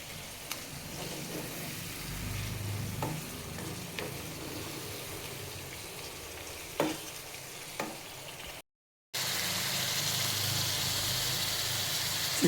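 Chicken seasoned with salt, turmeric and chilli powder sizzles steadily in a hot pan, with a constant frying hiss, a few clinks of stirring and a louder burst of sizzle near the end.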